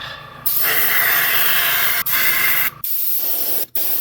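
Spray paint hisses in steady bursts as the final coat goes onto an HO scale Railbox 50-foot boxcar model, with short gaps between passes and a brief pause near the end.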